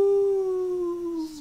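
A person imitates a long, sliding howl like a coyote, a single drawn-out call that slowly falls in pitch, close and clear.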